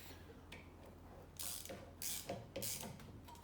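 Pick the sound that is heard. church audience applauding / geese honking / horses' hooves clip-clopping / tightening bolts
tightening bolts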